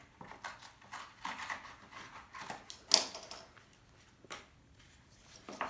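Scissors snip through a cardboard box in a series of short, crisp cuts and crunches, close and fairly quiet, with one sharper snap partway through.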